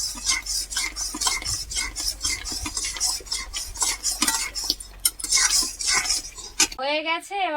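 A spoon scrapes and clatters rhythmically in a pan of thickening mango preparation, loud and close, with continuous stirring strokes that stop abruptly near the end as a voice begins.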